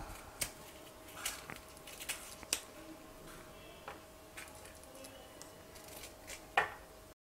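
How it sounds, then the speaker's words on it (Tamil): Raw mango being cut into small pieces for an instant pickle, heard as quiet, irregular knife taps and clicks on a board spread across several seconds, with no talking. "சின்ன சின்ன பீஸா கட் செய்துக்கலாம்."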